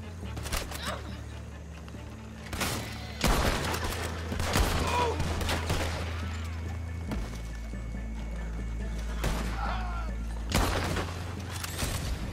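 Gunfire in a video game, shots fired at pursuing enemies during a chase, heard as scattered sharp bursts over a steady low engine-like rumble, with some voice nearby.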